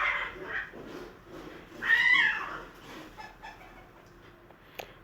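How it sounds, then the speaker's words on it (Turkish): Cats yowl and screech at each other in loud, drawn-out bursts, rising to a harsh peak before fading into quieter growls. "kediler de birbirini yiyor ya"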